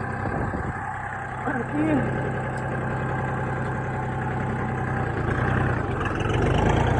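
A cheap 24 hp mini tractor engine runs nearby with a steady, rough idle that rises slightly in revs near the end, while someone talks over it.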